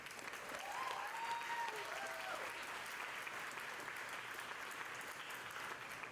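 Sustained applause from a graduation celebration audience honoring family-support program graduates, steady and even throughout with a few faint voices and whistles mixed into the clapping.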